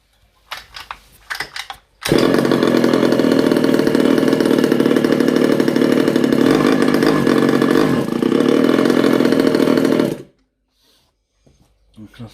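Petrol engine of a 1/5 scale Yama RC car roaring loud and close at steady high revs for about eight seconds, with faint handling noises before and after.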